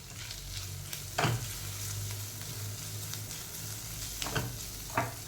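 Continuous sizzling from a hot pan of spices with turmeric and coriander-cumin powder, broken by a few scraping strokes of a spoon stirring, close by and without voices.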